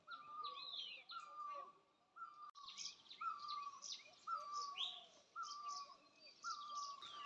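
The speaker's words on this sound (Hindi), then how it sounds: "जो ये वाला पक्षी चिल्ला रहा है ना" A bird repeats a short, clear call over and over at a steady pace, with other chirps and tweets mixed in, faint against a quiet outdoor background.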